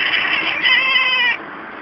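A talkative cat gives one drawn-out meow close up, loud and clear with a rising, wavering tone, then trails off quietly.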